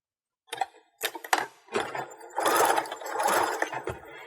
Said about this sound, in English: Now I'm going to sew the back piece together.